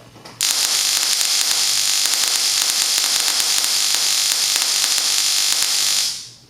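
A Mitsubishi ignition coil fires at 6,000 RPM across a 1.5 inch gap with a 4 millisecond dwell, giving a loud, continuous buzzing crackle of rapid sparks that starts abruptly and runs for about six seconds before cutting off.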